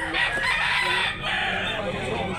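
Roosters and chickens at a poultry market in Talisay, Cebu, crow and cluck loudly and continuously, close by and overlapping, with crowd noise underneath.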